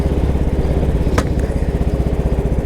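A Royal Enfield Bullet 500 motorcycle thumps steadily along a quiet road, its single-cylinder engine giving a loud, even pulsing chug with a brief sharp click partway through.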